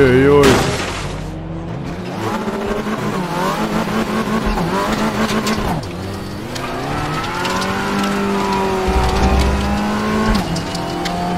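Racing car engine in a video game race, loud and continuous with rising and falling revs, gear shifts and tire noise throughout, with a voice talking over it.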